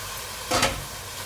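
A brief sizzling stir of sautéed cabbage with shrimp and tofu in a pan, one short scraping burst over a steady frying hiss.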